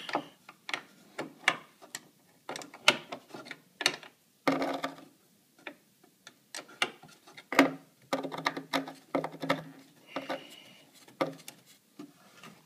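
A ratchet wrench clicks in quick bursts while turning a bolt on a gear mount during washer removal, close and crisp with pauses between strokes and some metallic clunks.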